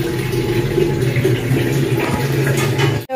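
Water pours steadily from a water machine as it fills, a constant close splashing flow that runs unbroken for about three seconds before cutting off abruptly at the end.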